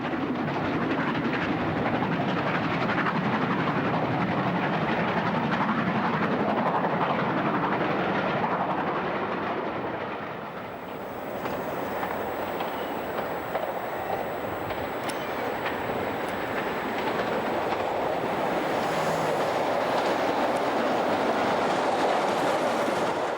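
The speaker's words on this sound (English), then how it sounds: "6201 was still out and about on the S&C, this time carrying the midday Scott headboard while working a southbound Cumbrian Mountain Express" LMS Stanier Pacific 6201 steam locomotive hauling the southbound Cumbrian Mountain Express on the Settle–Carlisle line, a loud continuous roar of train and rolling carriages with a brief dip midway and rail clatter throughout.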